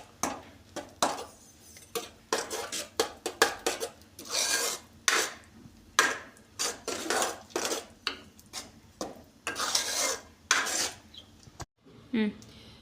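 Chicken curry masala being stirred in a pan, a steady run of rasping metal-on-pan scrapes and clinks repeating in quick irregular strokes, close and fairly loud, with no talking.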